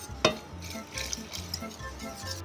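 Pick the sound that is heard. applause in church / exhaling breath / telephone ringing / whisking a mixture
whisking a mixture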